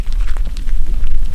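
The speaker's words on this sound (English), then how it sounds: "This is the sound of a dozen black beetles, each the size of my fingernail, scampering about in a plastic baggie." A dozen small black Nebria brevicollis beetles scampering inside a plastic baggie, giving a dense, continuous close-up rustle and crinkle of plastic with tiny scratchy ticks.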